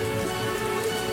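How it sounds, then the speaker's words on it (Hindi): Heavy rain pours steadily over a field of crops nearly ready for harvest, a dense, continuous hiss of drops with no pauses or voices. "अचानक तेज बारिश शुरू हो गई।"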